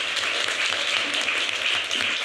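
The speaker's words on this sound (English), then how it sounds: "A round of applause." Applause from a panel event audience, a steady wash of clapping held at an even level throughout, with no voices over it.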